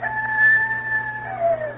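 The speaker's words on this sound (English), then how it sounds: "Say, that rooster's fast." A rooster crows once as a sound effect in a Lux Radio Theater radio play, a single long, drawn-out call that rises and holds clearly in the foreground with no talking over it.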